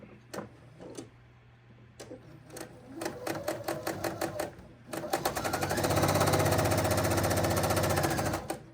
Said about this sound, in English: And now we're just going to sew that seam.